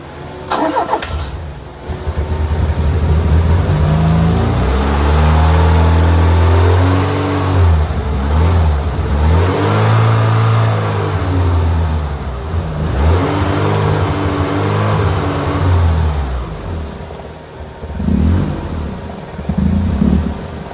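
An old Fiat 131 engine, unstarted for 20 years, cranks, catches and roars, revving up and down repeatedly in loud, close surges before settling.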